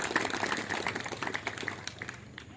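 An audience claps together at an official district ceremony for a waste-awareness day in Jayapura, a steady mid-level patter of many hands sustained for a couple of seconds and tapering slightly at the end.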